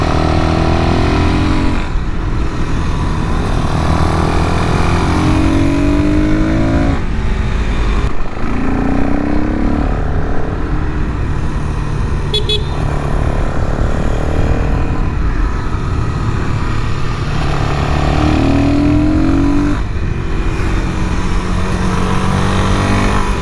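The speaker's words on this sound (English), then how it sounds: "the bike sounds way more powerful with the snorkel removed" A Suzuki DRZ4SM motorcycle ridden on open road with its air box snorkel removed gives a loud, continuous close engine drone, rising and falling with repeated revs and gear changes throughout.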